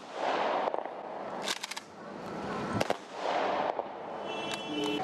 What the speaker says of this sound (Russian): В память о героях прозвучали залпы оружейного салюта.